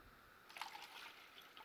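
Water pours from about midway into containers of white vinegar set up for dyeing eggs, a short, soft trickle and splash that follows a quiet start.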